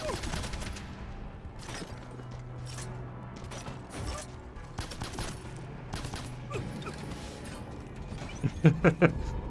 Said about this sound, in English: I did not expect the enemy to be so close I would be caught in the explosion.